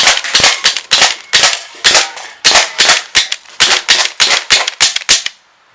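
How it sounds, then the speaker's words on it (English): Umarex Walther SG9000 CO2 BB shotgun fired rapidly in three-round bursts, a long string of sharp close cracking pops in tight clusters, loud and without talk, ending in a short quiet tail. "I'm just going to unload all 40 rounds. 3-shot burst mode."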